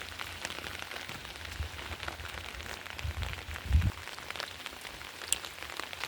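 Steady rain falls on garden flowers and plants such as peonies in wind and rain, a dense continuous patter with occasional louder drops and a brief low thump, no voices.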